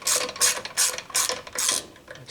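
A hand ratchet tightens a T27 Torx bolt on a tiller engine, making four or five bursts of quick metallic clicking in a steady back-and-forth rhythm, close up and alone with no talk.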